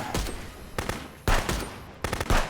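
Gunfire in the police game Contraband Police: several loud, sharp shot bursts in quick clusters, close and punchy, with brief gaps between volleys and no talking.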